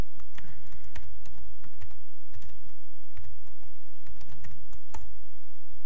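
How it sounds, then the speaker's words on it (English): Rapid clicking of computer keys being typed in quick, uneven bursts, close up, with no talking. "we are typing this command"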